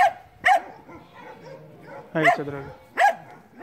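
A shepherd dog gives loud, close barks, about four of them spaced a second or so apart. A person speaks briefly between the barks.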